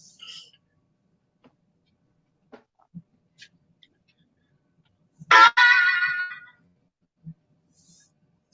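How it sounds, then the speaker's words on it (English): A mobile phone ringtone bursts out for about a second during a casual live chat, set among faint scattered clicks and near-silence. "that was my phone going off"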